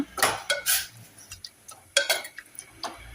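A spoon stirring tomato rasam with jaggery in a pot, giving a handful of quick metallic clinks and scrapes in short bursts, close and fairly loud.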